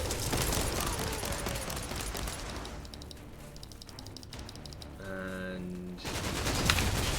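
Defensive turrets in Warhammer 40,000: Inquisitor - Martyr fire in dense, rapid volleys of gunfire layered over game music and effects, steady and loud throughout with a swelling burst near the end.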